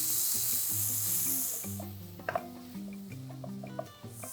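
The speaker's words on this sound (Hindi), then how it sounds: "मिक्स करेंगे तड़के के साथ अच्छे से सारे मसालों को।" Chopped chillies, salt, red chilli, turmeric and coriander powder mixed into a hot tempering for turai moong dal give a soft, steady sizzle with light stirring scrapes and taps, under quiet background music.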